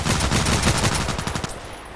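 Rapid gunfire from a sniper rifle in the first-person shooter Contract Wars, a dense run of loud, closely spaced shots for about a second and a half, then fading into a quieter tail.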